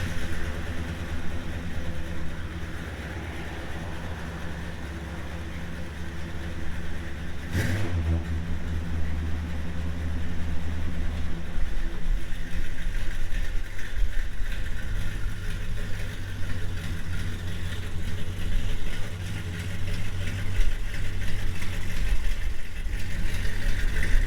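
A 1979 Chrysler Cordoba with aftermarket headers starts up and drives off, its engine note rising from idle into a steady, rumbling run that grows louder through the second half, with no talk.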